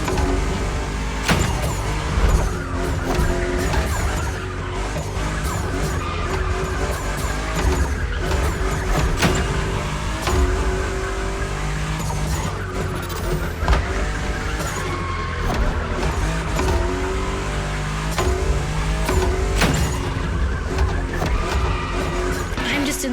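A fifth-generation Toyota Supra drifting in The Crew Motorfest, engine roaring steadily with repeated tire squeals and skids through linked slides, loud and continuous under background music.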